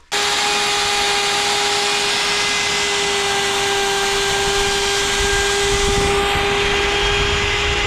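A Vitals power router whines steadily with a high tonal hum while cutting into wood, loud and continuous with a brief shift in pitch near the end.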